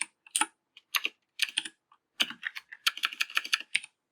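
Typing on a computer keyboard, with quick bursts of crisp clicking keystrokes separated by short pauses, close and fairly clear.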